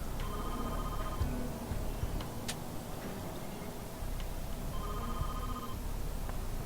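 In the video game Jurassic Park Trespasser, a telephone rings in two short trilling bursts several seconds apart, over a constant rushing background hiss.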